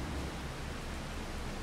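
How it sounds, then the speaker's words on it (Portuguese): Steady rain falls in Farming Simulator 25 while a soybean harvest is underway, a constant broadband hiss that stays even and unbroken throughout with no voices over it. "a verdade é que tá chovendo um pouquinho ainda"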